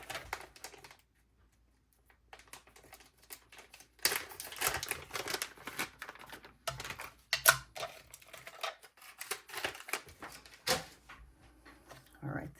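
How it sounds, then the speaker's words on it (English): A tape runner refill being swapped out makes a quick run of dense clicks, snaps and plastic rattles, close and fairly quiet, with brief pauses between bursts. "this is like the commercial break, I guess, of the video as she replaces her tape refill"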